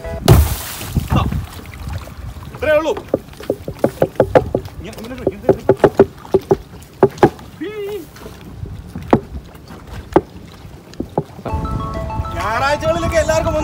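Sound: small boat pushed into backwater, Alappuzha

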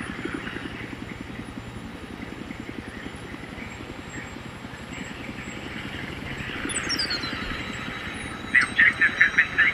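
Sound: scout helicopter in a video game

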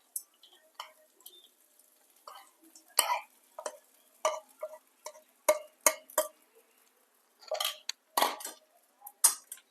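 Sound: stirring sabudana khichdi with potatoes in a pan

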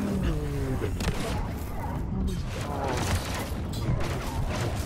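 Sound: explosions and blaster fire in a video game

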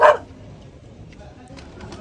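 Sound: dog barking

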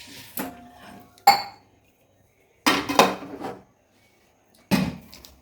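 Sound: pot of mawa rabdi taken down off the stove

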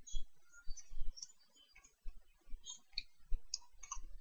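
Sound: twisting a Rubik's cube puzzle

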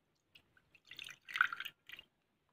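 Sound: pouring frankincense-soaked water into a dish

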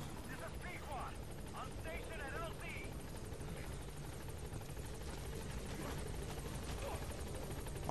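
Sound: helicopter in video game Metal Gear Solid 5

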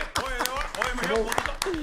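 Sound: audience applause for Michelle

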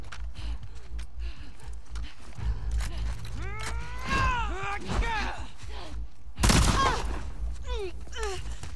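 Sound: gunshots in the video game The Last of Us Part II

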